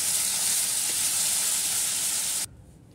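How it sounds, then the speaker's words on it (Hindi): Marinated minced mutton frying with onions and spices on a high flame, a loud, dense sizzle that cuts off abruptly near the end into near silence. "इधर हमने हाई फ्लेम पे 1 मिनट तक के अच्छे से कीमे को भून लिया"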